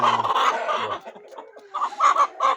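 A hen, one of the Indian game breed with a stone-afflicted foot, clucks in short bursts at close range, a few choppy calls with brief pauses between them.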